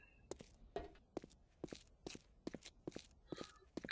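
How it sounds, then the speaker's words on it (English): Footsteps in the 7 Days To Die video game: a faint, quiet series of regular thudding steps, about eight to ten evenly paced, with no other sound. "Can hear a lot of footsteps."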